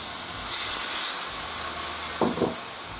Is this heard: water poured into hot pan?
yes